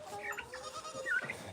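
A goat in a barn stall lets out a wavering, nasal bleat that rises and falls, close by and fairly clear, with faint barn noise around it.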